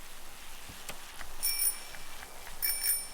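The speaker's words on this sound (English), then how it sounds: "Not that I know why I'd want to ring the bell to get anyone's attention." Bicycle-style bell in the game Generation Zero, a few bright, thin rings close by over quiet background hiss, the first near the middle and another burst toward the end.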